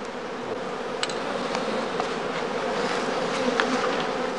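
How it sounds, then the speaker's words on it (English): Honeybee swarms emerging from straw skeps at an outstand fill the air with a dense, continuous buzzing drone, loud and steady, with no voices. "the beekeeper waits for the second swarms, or casts, to emerge from the skeps."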